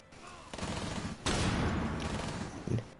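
Gunfire in the tactical shooter Rainbow Six Siege comes as rapid bursts and a heavy volley, loud and close, with in-game noise between the shots.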